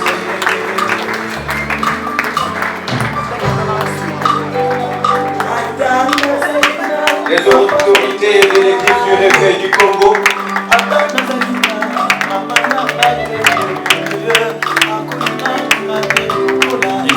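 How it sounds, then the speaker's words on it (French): Congregation at a Congo Revival Church gathering applauds as the church authorities enter the hall, steady clapping running under music and an amplified French announcement. "Accueillez-les avec vos applaudissements,"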